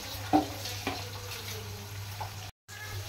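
Garlic and urad dal fry in oil in a pan for an avarai and brinjal poriyal, giving a steady close sizzle with a few sharp knocks of a stirring spoon and a brief dropout near the end.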